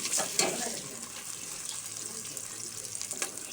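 Onions fry in desi ghee in a pan for a meat, potato and cauliflower curry, a steady close sizzle with a sharp burst as they hit the hot fat, then a lower crackle.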